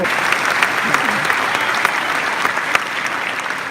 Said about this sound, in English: give a huge round of applause to Mr. Tony Dalcoe for helping put together